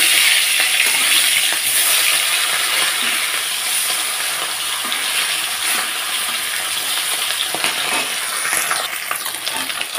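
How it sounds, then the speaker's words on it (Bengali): Flipped fish pieces fry in hot oil, a steady, loud crackling sizzle with scattered pops and a few light utensil clinks, with no one speaking. "তো মাছগুলো এখন আমি উল্টে দেবো।"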